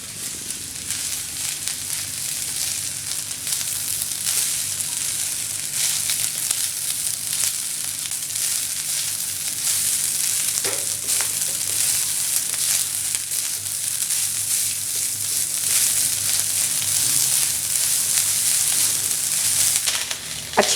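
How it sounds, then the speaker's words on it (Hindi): Leftover cooked rice fries hard over a high flame for egg fried rice, giving a loud, steady sizzle that holds evenly throughout with no voices. "फ्लेम को हाई करके हमें अच्छी तरह से राइस को फ्राई करना है।"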